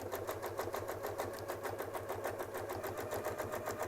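A sewing machine stitches through a quilt sandwich in a steady, rapid rhythmic whir, close and continuous, with no talking over it.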